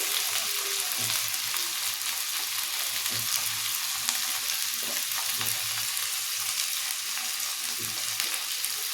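Ground coriander and other spices fry in hot oil with a steady close sizzle, marked by occasional soft stirring knocks, continuous and without talking.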